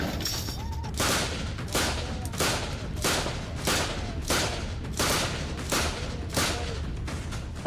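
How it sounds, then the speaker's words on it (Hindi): Bursts of gunfire from an Afghan army militia unit on a village border wall crack out in a rapid, irregular series, about a dozen sharp reports over several seconds, loud and echoing. "गांव की सरहद वाली मुंडेर से ताबड़तोड़ गोलियां दाग रहे ये अफगानी फौज की मिलिशिया टुकड़ी"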